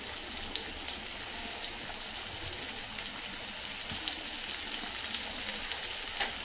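Chopped onion fries in hot oil with cumin for bhindi sabzi, giving a steady, even sizzle like light rain, close and constant with faint spoon clicks.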